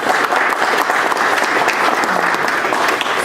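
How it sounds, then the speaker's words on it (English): Steady applause from a classroom audience of students for a tutor named Kevin, dense continuous clapping that stays loud and even throughout, with no one speaking over it. "Give him a round of applause."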